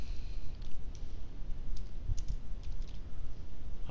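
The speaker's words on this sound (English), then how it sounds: "type in my name" Fingers typing a name on a computer keyboard, soft rapid key clicks close up over a steady low hum.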